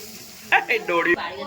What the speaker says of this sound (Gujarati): હવે એની અંદર આપણે લસણ ઉમેરી લેશું